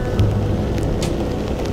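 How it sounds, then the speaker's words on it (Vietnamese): Rain falling in the mountains near Da Lat, a steady soft hiss of rainfall with a few brief brighter gusts, moderately quiet and continuous with no one talking. "Ở ngoài phố không mưa nhưng mà ở trong núi lại mưa"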